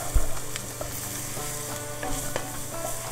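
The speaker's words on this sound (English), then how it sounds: "saute until they're soft." Celery and carrots sautéing in a pan for Italian wedding soup, a steady close sizzle with occasional clicks and scrapes of stirring, no voices.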